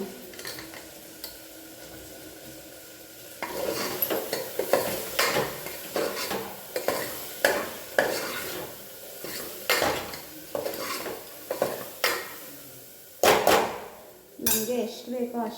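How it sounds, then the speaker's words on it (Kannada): A spoon scrapes and clanks against a pot as sambar ingredients with coriander powder and sambar powder are mixed, in loud rhythmic strokes about once a second after a quieter start. "ಅದೆಲ್ಲ ಚೆನ್ನಾಗಿ ಒಂಥರ ಮಿಕ್ಸ್ ಮಾಡಿಬಿಟ್ಟು"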